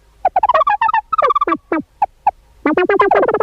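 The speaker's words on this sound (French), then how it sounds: "le sound design se mêle au caquettement des poules et des volailles et ça fait un espèce de mélange à la Jean-Mi" Hens and other poultry cluck in close, rapid bursts of harmonic calls, blended with film sound design. A short pause breaks the calls before a denser, louder flurry returns at the end.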